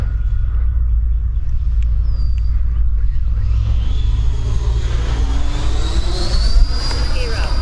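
An E-flite Viper RC jet flies past with a powerful, rising ducted-fan whine over a heavy low rumble, growing louder and brighter toward the end.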